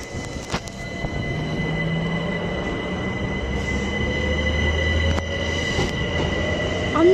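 A London Overground Class 378 electric train runs past at Sydenham station with a steady rolling rumble and high, drawn-out wheel squeal, growing louder toward the end.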